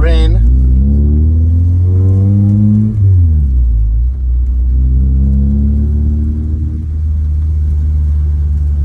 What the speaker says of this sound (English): Gonna go for a quick drive.